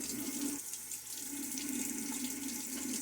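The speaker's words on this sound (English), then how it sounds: "Little water splash now." Water runs from a bathroom tap into a sink during a wet shave, a steady, close rushing splash lasting the whole moment at low level with no voices.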